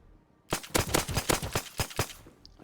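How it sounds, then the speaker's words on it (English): Rapid semi-auto rifle gunfire in the survival game Rust, a burst of about a dozen sharp, closely spaced shots, loud and close, with no talk. "Here someone was shooting at me with a semi-auto rifle"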